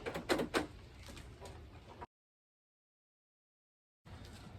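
Door latch on a 1999-2007 Ford Super Duty extended cab truck door being worked, giving a few sharp close clicks and clunks at the start, then a short metallic rattle, with a gap of silence midway.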